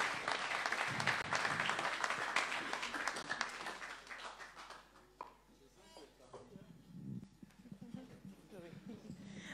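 Church congregation at a Sunday service breaking into loud, dense applause that gradually fades, while voices call out and talk continues over the thinning claps.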